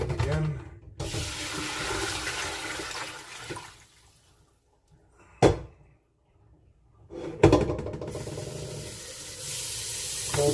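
Cold tap water gushes into a sink over drained lasagna noodles in two loud bursts of running water, separated by a quiet pause with a couple of sharp knocks, with no talking.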